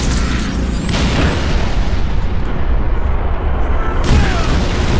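Heavy artillery final protective fire in Halo: Reach, with loud booming blasts rolling into a dense, continuous rumble, and a fresh burst of impacts near the end.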